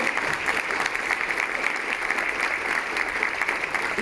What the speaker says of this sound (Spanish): pedir un aplauso para Quimacul y las emprendedoras